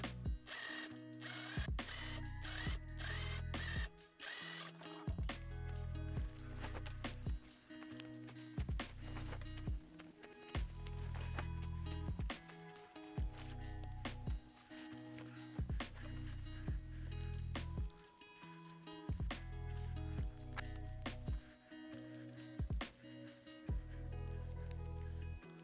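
A sewing machine top stitching a hoodie, its motor running steadily for most of the stretch with a rapid mechanical needle clatter, broken by brief pauses and restarts, close and fairly loud.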